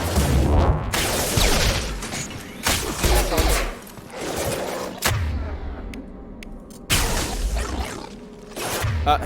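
Pistol gunfire in Mass Effect 2 comes in bursts of sharp loud shots with booming low thuds, broken by short lulls and a few swishes; a voice is heard faintly underneath.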